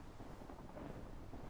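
Steady rain with a continuous thunder rumble in the city-building video game Simburbia, a dense, even wash of sound that holds at constant low loudness and has no voices.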